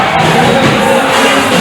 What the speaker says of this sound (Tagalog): Crowd cheering here.